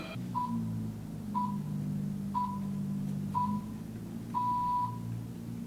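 Five evenly spaced high electronic pips from a phone in a Sherlock TV episode, each short bright tone about a second apart, clear over a low steady background hum.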